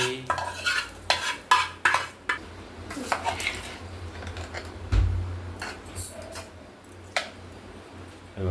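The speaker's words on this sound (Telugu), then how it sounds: "మొత్తం అన్నం మొత్తం కలుపుకోవాలి" Cooked rice for lemon rice is mixed by hand in a metal vessel, a close series of irregular soft scrapes, rustles and light clinks, denser at the start and then settling into quieter, uneven handling.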